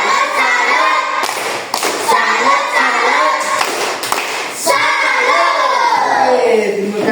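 A classroom of pupils claps a rhythmic salute, patterned bursts of hand claps in groups mixed with children's chanting voices, loud and close throughout.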